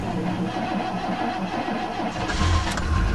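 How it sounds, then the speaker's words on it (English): A 1992 Chevy Lumina cold start after a day of sitting in cold weather: the starter cranks briefly under a steady background, then the engine catches with a low, loud rumble near the end. "How's that Chevy for ya? Starts right up."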